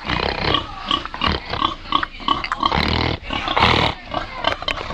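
Pigs in Palenque, Colombia, grunt and snort close by in rough repeated bursts, a loud rasping, motor-like growl rising and falling over several seconds.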